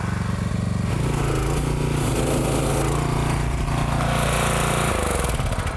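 Pressure washer driving water through a pipe being pushed under a concrete sidewalk: a loud, steady engine drone with a low hum and rough scraping texture, continuous and close throughout with no talk.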